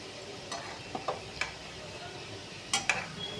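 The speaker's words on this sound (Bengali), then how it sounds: "এটাকে আমি একটু হালকা লাল লাল করে ভেজে নেব।" Lachcha semai pitha fries in hot oil, making a soft, steady sizzle broken by several light metallic clinks and taps as a spatula or ladle touches the pan. No voices are heard.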